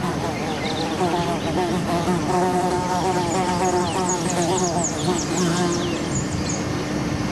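In a forest, an insect buzzes in a continuous droning hum, close and steady throughout, with faint chirps behind it.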